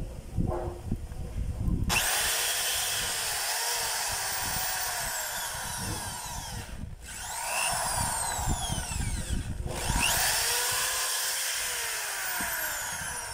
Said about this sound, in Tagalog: Titesting lang natin yung hammer kung meron. Drill.